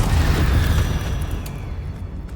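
A Bombarda explosion spell is cast in Hogwarts Legacy, and a loud booming blast rolls out as a heavy low rumble that slowly decays, with faint clicks near the end.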